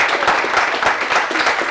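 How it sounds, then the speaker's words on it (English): Dense, loud audience applause after a talk on AWS security and compliance automation, many hands clapping in a continuous even patter with no voices. "I think, again, a big round of applause"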